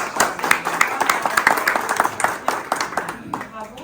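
Audience applause, a steady patter of many hands clapping close by, mixed with talking voices.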